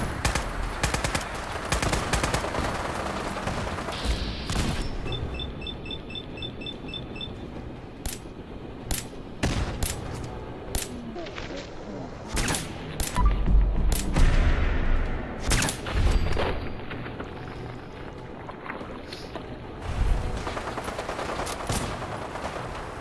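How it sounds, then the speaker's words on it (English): Rapid bursts of enemy gunfire in Fallout 4, sharp shots and machine-gun rattles cracking repeatedly throughout, with heavier low booms in the middle and no talk. "They're all shooting."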